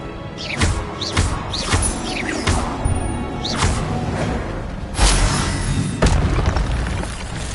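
Fire spells cast in a fantasy video game go off as a run of sharp blasts and booms, about eight bursts spaced irregularly, loud and close with crackling tails.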